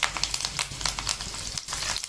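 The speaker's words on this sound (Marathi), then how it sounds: "मोहरी तडतडली की त्याच्यामध्ये कढीपत्ता टाकायचा" Curry leaves and mustard seeds sizzle and crackle in hot oil in a wok, a dense steady frying hiss with sharp pops and spatters, close and alone.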